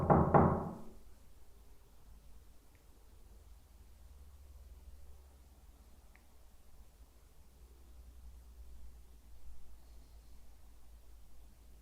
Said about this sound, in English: Could you knock, please?